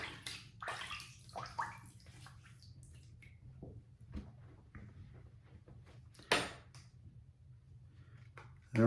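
Water splashing in a sink as hands wet the face before a double-edge safety razor shave, several soft sloshing bursts early on, then quieter drips and a sharp splash near the end, with a steady low hum underneath.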